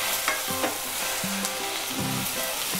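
Ground spices stir-fried in a pan over low gas, with a steady close sizzle and occasional spatula scrapes throughout, no talking.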